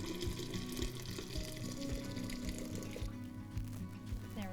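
Brewed sweet tea poured into a pot, a steady close splashing stream of liquid with a ringing pot tone that thins out toward the end.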